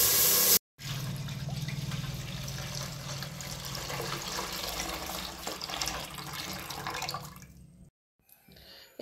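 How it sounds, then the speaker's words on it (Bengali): Milk pours into a hot pot in a steady, continuous liquid rush for several seconds, close and fairly quiet, before it cuts off abruptly. "এবার আমি দিয়ে দেবো দুধ"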